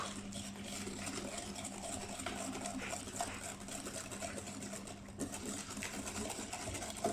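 Mascarpone mixture for a speculoos tiramisu being whisked by hand in a bowl, a steady continuous whirring and scraping with a constant low hum underneath, close and unbroken throughout.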